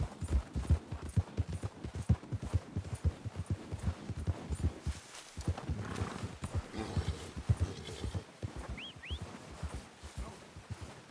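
A horse gallops in the Red Dead Redemption 2 video game, rapid rhythmic hoofbeats drumming steadily and close, with a brief whinny near the end.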